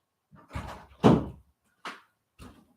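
A door is opened indoors with a scattered series of faint, short thunks and knocks, separated by silent gaps.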